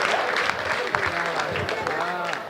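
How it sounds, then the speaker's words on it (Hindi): An audience at a Hindi comedy poetry gathering claps, a diffuse wash of applause running under a voice, moderately loud and steady across the moment. "ये उन्हीं लोगों ने ताली बजाई है"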